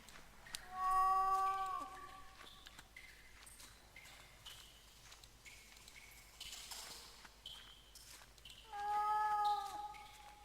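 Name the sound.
cat meowing in a video game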